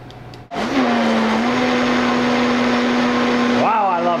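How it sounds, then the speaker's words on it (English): A kitchen blender whirs as it smooths a sauce, starting with a sudden surge of motor noise that holds a steady loud whine for about three seconds, then rising in pitch as it winds up near the end. "We're going to go ahead and just get this blended for a few seconds just to smooth it off."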